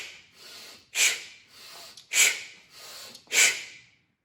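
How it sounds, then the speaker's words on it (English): Forceful breaths drawn in through the nose and pushed out through the mouth in a steady rhythm, about six loud, close, whooshing strokes alternating in and out over four seconds, with no talking. "you will breathe in forcefully through the nose and out also forcefully and vigorously through the mouth"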